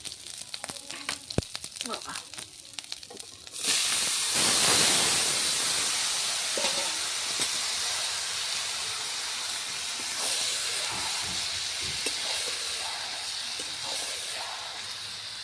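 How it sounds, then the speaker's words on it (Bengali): Curry poured into a hot pan bursts into a loud, sustained steamy hiss that starts suddenly after a few seconds of softer clatter, then slowly eases over the rest of the clip. "ঢেলে দেবো এবার তরকারিটা"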